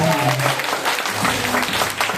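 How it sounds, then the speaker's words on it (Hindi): An indoor audience claps loudly and steadily, a dense, continuous wash of applause that holds for the whole stretch, with a voice faintly underneath at the start. "जोरदार ताली होनी चाहिए"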